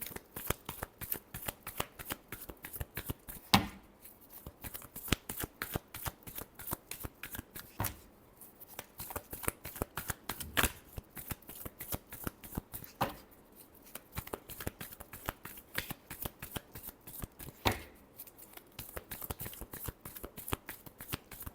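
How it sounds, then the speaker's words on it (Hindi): Tarot cards are shuffled by hand again and again in a steady, crisp riffling patter with short pauses between bursts, close and fairly quiet with no talking. "Last shuffle."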